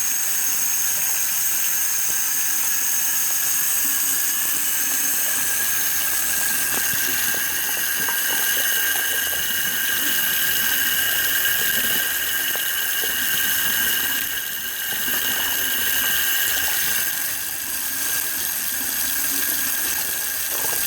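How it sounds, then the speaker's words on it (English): A kitchen sink faucet turned on full blast over a freshly unclogged drain gives a steady, hissing rush of running water with a thin whine, constant for about twenty seconds with no talk. "let's turn on full blast and see if it drains now"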